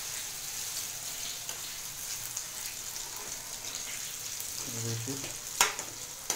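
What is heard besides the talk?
potatoes frying in oil with fennel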